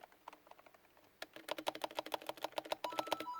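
Rapid clicky typing on a small mechanical RGB computer keyboard, sparse taps at first then a fast, close, irregular burst of keystrokes.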